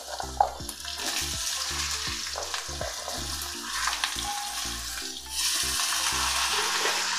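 Potatoes tumble into hot oil with dried red chillies and asafoetida, setting off a steady close sizzle broken by rhythmic scraping stirs, the frying swelling louder near the end.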